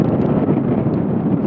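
Wind buffeting a rider on a 2022 Zero S/RS electric motorcycle at speed, a loud, steady roaring rush of wind noise close against the microphone with no motor sound.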